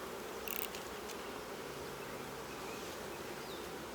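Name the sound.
honey bees buzzing at an opened nucleus hive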